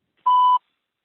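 A single clean electronic beep on an automated IVR phone call, about a third of a second long, sounding alone against silence just before keypad entry.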